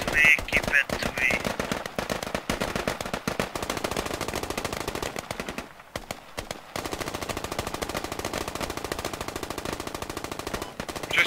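A machine gun lays down suppressive fire in the video game Squad, long rapid bursts of loud, dense gunshots that pause briefly midway and then resume hammering without letup.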